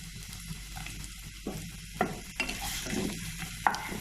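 A small onion tossed into a pan of green chicken curry with ground green chilli paste, sizzling and frying with crackles and stirring scrapes, close and moderately quiet, no talking.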